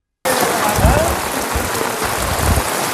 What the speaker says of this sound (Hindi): पहले ही तेज बारिश में दीवार के ढहने से निर्माण की गुणवत्ता पर सवाल उठने लगे हैं